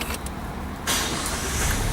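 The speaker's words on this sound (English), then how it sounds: "Like this Mazda is fitted with a push button start." A push-button start brings a Mazda car's engine to life: a short quiet moment, then the engine abruptly catches and settles into a steady, close-up running note.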